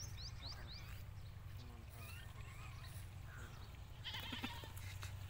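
Goats bleating on a goat farm, several short wavering bleats early and a louder cluster near the end, over a steady low rumble of background noise, with someone talking faintly throughout.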